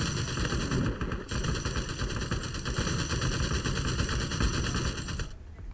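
Rapid automatic gunfire from a gun in the survival shooter LifeAfter, set in a golden desert, rattles steadily for about five seconds with a brief break near the start before cutting off abruptly.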